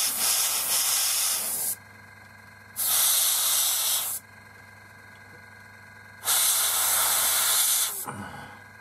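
Spray paint hisses onto a 1/72 scale North American Mustang model in three short bursts of a second or two each, separated by quiet pauses, close and fairly soft.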